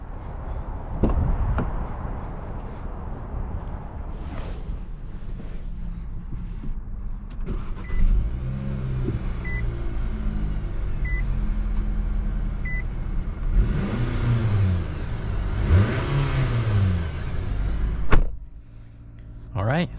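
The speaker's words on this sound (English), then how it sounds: "take this Nissan Sentra SV on e-test drive and see how it does." A 2022 Nissan Sentra SV on a road test drive, with steady engine and tire noise throughout, a few soft chimes and rising whooshes of passing traffic, and a brief loud thump near the end.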